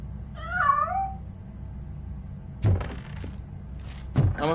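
A cat meows once in a video game, a clear mid-pitched wavering cry near the start, followed by two dull thumps a second or so apart with no talking.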